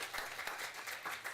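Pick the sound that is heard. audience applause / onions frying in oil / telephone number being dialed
audience applause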